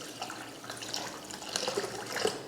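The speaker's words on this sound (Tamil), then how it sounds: "இப்போ இதை லைட்டாக தண்ணி ஊற்றி அலசிடலாம்." Water is poured over semolina and flattened rice to rinse them, giving a soft, steady trickle and slosh with small splashes, close and fairly quiet with no talking.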